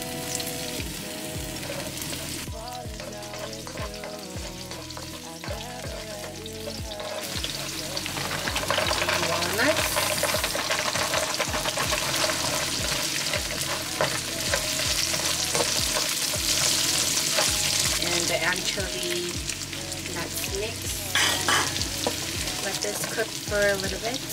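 Anchovies, nuts and garlic frying for Korean banchan, a steady crackling sizzle with stirring scrapes that grows louder and denser partway through, close and continuous without talk.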